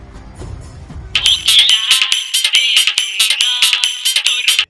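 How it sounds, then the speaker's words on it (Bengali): A phone rings with an outgoing call tone: a loud, bright electronic ring repeats in quick, even pulses after a short stretch of faint background noise, then stops sharply. "একটা কাজ করি, বোদাকে ফোন করি।"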